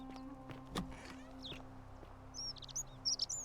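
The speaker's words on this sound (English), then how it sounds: "Bird." A bird chirps in the video game The Forgotten City: a few quick high tweets near the end, fairly close, over a low ambient hum and scattered soft thuds.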